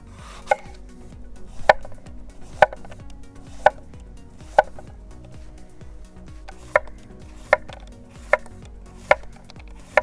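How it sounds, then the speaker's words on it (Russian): A knife taps sharply on a cutting board at a steady pace, slicing a vegetable into thin rings with about a dozen crisp chops, no voices. "И нарезаем это все тонкими вот такими вот колечками."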